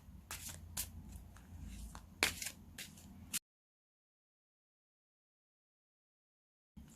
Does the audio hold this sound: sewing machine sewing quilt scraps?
no